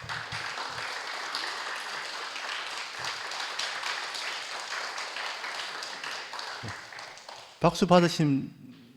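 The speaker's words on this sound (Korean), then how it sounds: "박수 부탁드리겠습니다" A church congregation gives dense, steady applause for a member's 70th birthday during a Sunday worship gathering. The clapping is sustained for several seconds, then a voice speaks briefly at the end.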